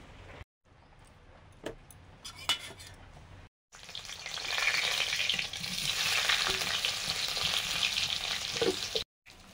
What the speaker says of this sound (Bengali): এবারে আলুগুলো ভাজবো